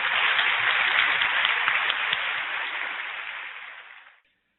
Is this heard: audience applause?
yes